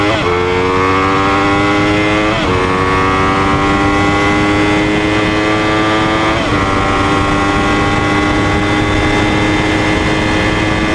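Yamaha R1 super sport motorcycle engine revving loud and close, its pitch climbing steadily through the gears with two sharp shifts, a continuous high-revving wail throughout.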